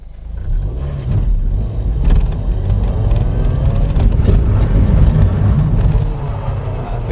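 A car engine hums and rises as the car pulls away from a rolling stop on a stunt-driving course, heard from inside with steady road rumble throughout.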